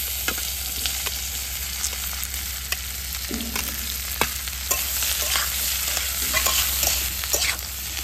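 Fried mixed vegetables stirred with black cumin, five-spice, dried chillies and bay leaf in a pan, a steady close sizzle with repeated scraping clicks of the spatula and no talking.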